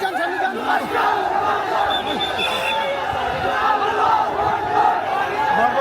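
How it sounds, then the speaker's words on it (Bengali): A large crowd chants takbir in unison at an outdoor religious gathering (mahfil) in Jessore, their massed voices rising and falling steadily throughout, dense and close, with the roar of the assembly continuous beneath. "আল্লাহ আকবর আরে তাকবীর"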